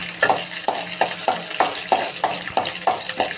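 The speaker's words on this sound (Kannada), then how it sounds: "ನೋಡಿ, ಕಡಲೆಬೇಳೆ ಚೆನ್ನಾಗಿ ಫ್ರೈ ಮಾಡ್ಕೊಳ್ಳಿ." Chana dal and crushed garlic sizzle in a pan while a spoon stirs them in a steady rhythm, each scrape landing about every third of a second over a constant close frying hiss.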